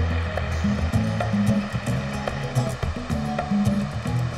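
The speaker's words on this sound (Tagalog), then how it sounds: "Dahil malakas ang agos at madulas ang mga bato, dahan-dahan lang sa pagtawid sa dinadaanan ng tubig talon." A waterfall in Kalinga rushes in a strong current over slippery rocks. The roar is loud and continuous, with a steady broad hiss and a few voices faintly audible beneath it.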